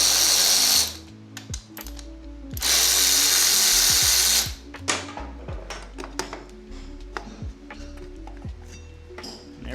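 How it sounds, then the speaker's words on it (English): Power ratchet with a number 8 Allen bit whirring in two loud bursts to remove Harley brake caliper bolts, followed by close metallic clinks and tool handling in a garage. "we'll grab a little power ratchet, and I believe it's number 8 Allen. Pop these guys off real quick."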